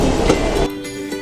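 Darjeeling Himalayan Railway toy train pulling into Gayabari station: a loud, close rumble that drops away abruptly partway through, leaving a softer mechanical hum.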